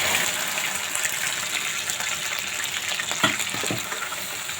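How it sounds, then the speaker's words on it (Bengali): Goat brains frying in a pan, just added to browned ingredients, give a steady, close, broadband sizzle that hisses throughout with a few brief pops and crackles. "এবার আমরা এর ভিতরে মগজটা দিয়ে দিব"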